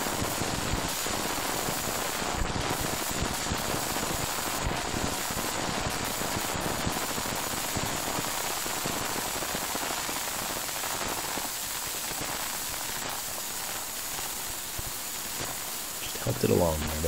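Sound file being degraded by a Sound Destroyer engine, a dense broadband hiss like white noise that fills the whole clip at steady loudness, with crackling texture and a slight thinning toward the end.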